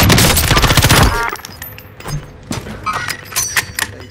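A loud burst of rapid automatic gunfire in a Call of Duty Warzone Resurgence match cuts off abruptly, followed by scattered, quieter shots and clinks further off.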